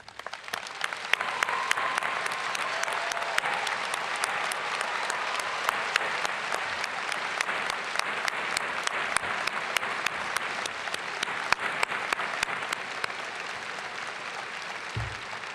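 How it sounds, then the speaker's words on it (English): Sustained applause from a large audience at a university commencement ceremony, steady and dense clapping that continues for the whole stretch without letting up. "please rise so we may applaud you"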